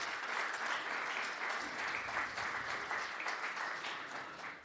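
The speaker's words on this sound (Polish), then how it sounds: "proszę bardzo o oklaski dla naszego gościa" An audience applauds a guest at a history lecture and discussion about communist-era intelligence agents, a steady wash of many hands clapping at close range, loud and continuous throughout.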